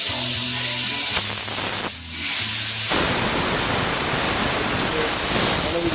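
A paint spray gun spraying a car bumper in an auto body shop, a loud steady close hiss that briefly dips and then resumes, with a low hum and engine-like tones early on.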